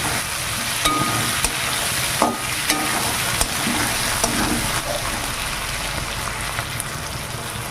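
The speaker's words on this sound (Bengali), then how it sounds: "এখানে আমি দুটো টমেটো দিয়ে দিলাম টমেটোটাকে একটু তেলে ভেজে নরম করে নেবো" Sliced tomatoes fry in hot oil in a pan, giving a steady, close sizzle throughout with a few sharp spatter pops and light stirring scrapes.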